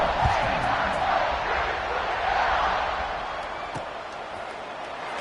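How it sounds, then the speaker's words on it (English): A stadium crowd roars at a Maryland college football kickoff, a broad sustained wash of cheering and shouting that swells early then eases slightly, with a faint thump near the end. "this crowd now ready to get behind them"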